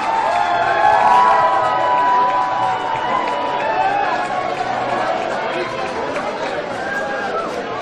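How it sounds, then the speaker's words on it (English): Election-night crowd at Vin Gopal's New Jersey campaign headquarters bursts into loud cheering and shouting as a projection goes up, a dense, sustained roar of many voices that slowly eases. "You just heard the crowd erupted in cheers because they put on the screen projection right now"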